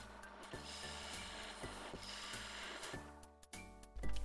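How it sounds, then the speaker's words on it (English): A small homemade round-nosed scraper cuts a piece of lacewood, giving a close, steady dry rasping and rubbing with short rhythmic strokes and brief pauses, louder at the very end. "Here I'm using the mini round-nosed scraper, just testing it on a piece of lace wood, and it's got a really nice cut."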